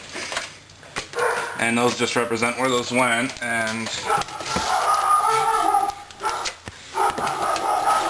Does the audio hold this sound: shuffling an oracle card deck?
no